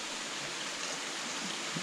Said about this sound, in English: This is like one of the most spectacular waterfalls after hard rain.